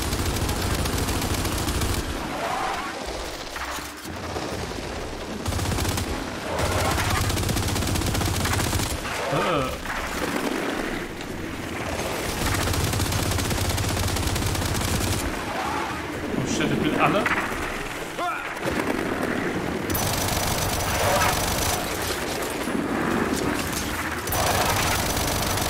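Dense, sustained gunfire from the video game Gears 5, with heavy bursts of shooting and explosions rolling almost without pause, loud and close throughout.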